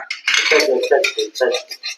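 Quick metallic clinks of a spoon against dishes, a rapid run of close, bright taps.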